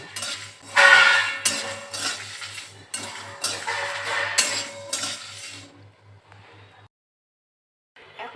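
Spices for mango pickle are dry-fried in a wok, with a metal spatula scraping and clinking against it in a quick, repeated rhythm over a soft sizzle, and the sound fades out near the end.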